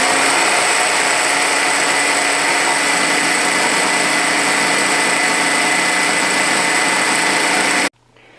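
A loud, high-pitched whirring electric drill motor runs steadily for several seconds while drilling a 1970 Rupp minibike part, then cuts off abruptly.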